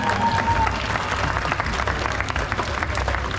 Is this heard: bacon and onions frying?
no